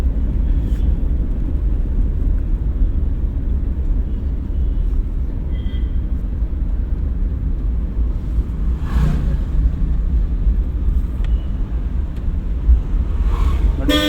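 A learner driver's car at a driving school accelerates as the clutch is released, a steady low engine drone with road rumble running throughout, and a voice briefly audible.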